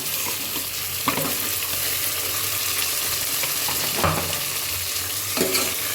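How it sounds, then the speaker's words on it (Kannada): Tempering for a vegetable lentil curry fries in a pan with a constant close sizzle, broken by occasional spoon scrapes and stirs, and no one speaking. "ಇವಾಗ ಇದು ಫ್ರೈ ಆಗ್ತಿದೆ."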